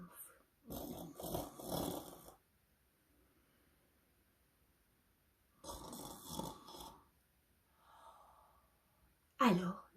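A voice imitates a father's snoring during a children's story reading, with two long rasping snore bursts separated by quiet, and a brief louder exhale at the end.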